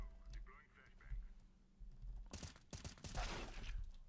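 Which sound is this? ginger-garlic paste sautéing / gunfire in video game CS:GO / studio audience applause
gunfire in video game CS:GO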